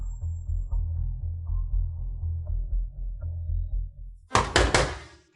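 Several loud knocks on a door in a quick cluster near the end, following a stretch of low rumbling background sound.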